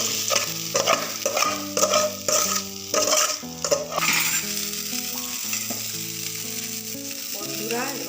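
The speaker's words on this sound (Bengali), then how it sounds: "মাছের মাথাটা আমি এপাশে ঢেলে নেব।" A fish head for muri ghonto sizzles and spatters as it fries in a pan, with a steady hiss under louder background music.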